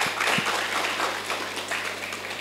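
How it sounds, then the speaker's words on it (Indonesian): A seminar audience at an Islamic education event applauds, a steady wash of clapping at moderate distance with no talk over it. "Boleh tepuk tangan."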